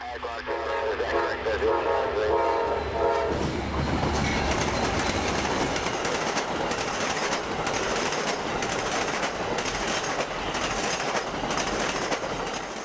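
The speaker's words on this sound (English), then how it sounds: "not even 5 minutes would be all we'd get before Amtrak 92 would speed west towards Tampa" Amtrak 92 passenger train led by two P-42 locomotives speeds past at Cherry Siding in Central Florida, a loud continuous roar of wheels and rushing cars that builds abruptly after a few seconds and stays dense throughout.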